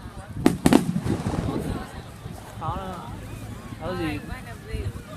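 Fireworks go off at a seaside display, with sharp close bangs early and then weaker fizzing pops as a dud fails to burst, heard under constant crowd chatter and talk.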